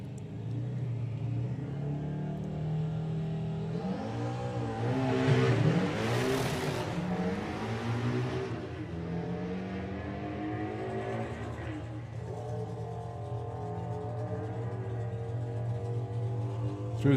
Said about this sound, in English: that's John Brewster doing the burnout below us there with the VW Pro Beetle